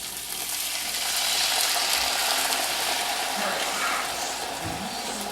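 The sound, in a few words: salmon and vegetables in sauce sizzling in a pan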